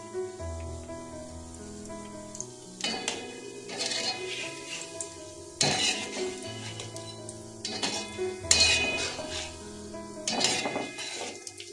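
Crispy pitha frying in oil, quiet sizzling broken by several sharp metal clinks and scrapes of a utensil against the pan as pieces are turned.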